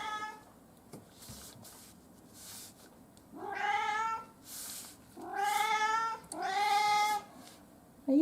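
A cat meows several times indoors in a quiet room, with three long, clear, drawn-out cries in the middle of the sequence and softer calls before them.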